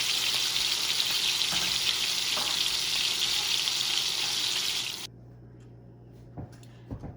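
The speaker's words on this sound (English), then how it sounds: "So we're going to let this pan sear for another 5 minutes on this side." Lamb chops searing in a hot pan give a loud, dense, steady sizzle up close that cuts off abruptly near the end, leaving a low hum and a few faint knocks.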